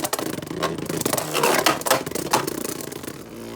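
A Super Hyperion Beyblade launched from a Sparking triple booster launcher whirs steadily up close, a dense, continuous buzzing spin with scraping rattles throughout.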